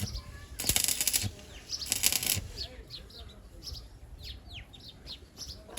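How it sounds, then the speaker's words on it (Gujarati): Myna birds arrive in two loud bursts of flapping wings, followed by a run of quick, bright calls and chirps nearby as they come to take sev. "કાબર આવી ગયું કાબર્યું આવી ગયું"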